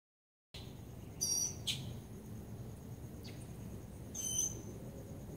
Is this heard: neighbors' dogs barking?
no